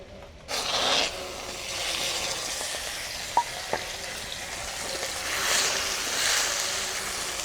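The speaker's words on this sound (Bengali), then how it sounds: "ওই বড়ি ভাজা তেলে মাছের তেলটা ভেজে নেব।" Fish oil frying in mustard oil in a pan, giving a steady close sizzle with brief surges and a few small clinks, no talking.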